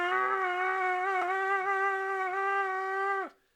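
A cornetto played badly with the lips set too far apart gives one sustained, buzzy tone with a rich stack of harmonics and slight wavering in pitch, held alone for about three seconds before stopping abruptly.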